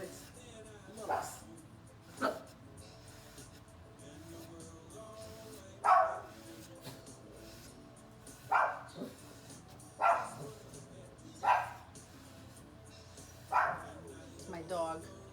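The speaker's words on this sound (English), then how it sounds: "My dog must have seen somebody." A dog barks in short separate bursts, about eight of them spread evenly, heard at moderate distance and fairly faint in a quiet room during furniture white-washing work.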